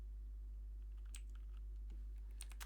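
Quiet keystrokes on a computer keyboard while typing into a web browser on a Windows computer, a few sparse clicks over a steady low hum.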